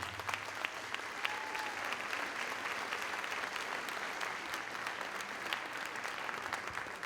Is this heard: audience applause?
yes